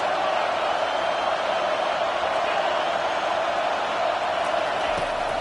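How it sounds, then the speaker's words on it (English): Steady roar of a football stadium crowd on a fourth-down play, loud and sustained throughout without a break. "4th down, and this crowd is making it miserable on this offense"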